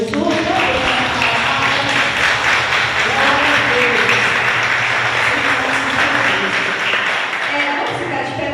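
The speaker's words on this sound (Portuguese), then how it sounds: "Vamos aplaudir o Senhor Jesus" A church congregation applauds during a worship service in Ouro Preto, Minas Gerais: dense, loud, steady clapping fills the whole stretch, with voices and some musical tones mixed underneath.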